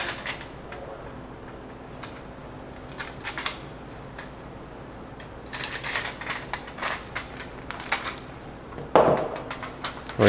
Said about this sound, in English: We're going to use our 2 thousandths shim here and cut 2 squares of it.